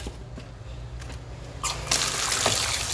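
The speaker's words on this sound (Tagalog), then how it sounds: "Lagay po natin yung tubig to." Water gushes loudly into a basin holding black-skinned chicken, starting with a few faint trickles before a strong, continuous pour that runs to the end, close and alone.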